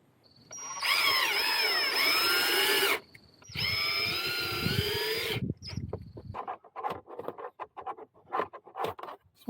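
A power drill drives screws to close gaps in two sustained whining bursts with rising and falling pitch, close and loud, followed by scattered clicks and light handling noises.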